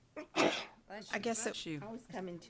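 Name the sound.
sneeze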